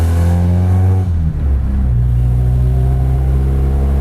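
A 1996 Honda Accord with upgraded brakes accelerates, its engine rising loud and close, then shifts to a lower steady drone as the car settles, with continuous road noise and no talk.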